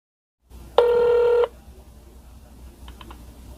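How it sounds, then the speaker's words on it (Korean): A phone call is dialed: one loud keypad tone sounds for about half a second, followed by a quiet line hiss with a few faint clicks. "이렇게 수신을 지금 해제했는데 다시 한번 전화를 걸어 보도록 하겠습니다"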